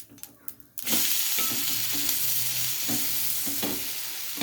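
A Bengali breakfast item being pressed down and fried in a pan, with a few clatters first and then a loud, steady close sizzle that continues with faint scraping pushes, and no talking.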